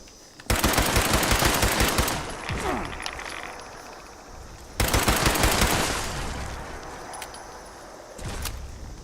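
Two long bursts of rapid automatic fire from a Berserker Explosive pipe rifle in Fallout 76, loud and close, each trailing off into a rattling tail, with a short pause between them.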